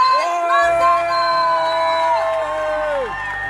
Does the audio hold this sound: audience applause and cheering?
yes